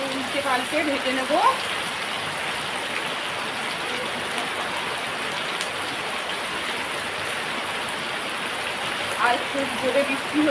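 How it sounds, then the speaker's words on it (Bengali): Heavy rain pours steadily outside a home kitchen, a constant dense hiss of drops on surfaces that runs unbroken throughout, with a few brief voices rising faintly over it. "আর খুব জোরে বৃষ্টি হচ্ছে"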